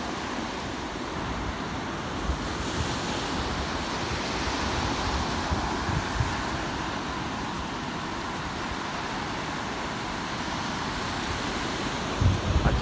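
Waves of the Sea of Japan along a coast in Yamaguchi, a continuous rushing surf wash with wind buffeting the microphone, steady and moderately loud throughout with a brief surge near the end.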